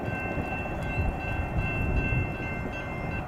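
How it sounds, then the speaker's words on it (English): A very long CSX freight train, Q166, rolls slowly past with a steady, loud low rumble of wheels and cars, nearby and continuous, with no voices. "Train is CSX Q166. That's one of the longest"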